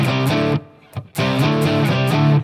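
Distorted electric guitar chugs a D-position riff, loud and close, with rhythmic palm-muted hits, a brief pause around the middle, then the riff resumes.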